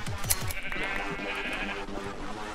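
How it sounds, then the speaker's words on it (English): Repeated sheep bleats in a Minecraft-style video game, several wavering calls overlapping at close range over a busy background of game sounds, continuing steadily throughout. "I think they're sheep."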